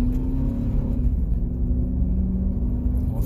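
A 2003 Chevy Suburban engine, running rich, holds a steady, loud low rumble as it is revved up a little, with a constant droning tone and no breaks.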